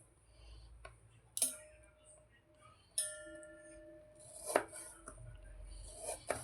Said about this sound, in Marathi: आता ह्याचे आपण तुकडे करून घेऊया